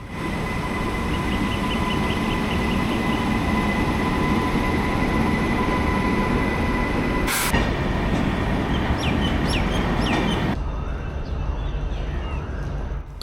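A train pulls into Siliguri railway junction, a small station with five platforms, its steady loud rumble and clatter carrying on throughout, with a sharp clank partway and wheel squeal near the end.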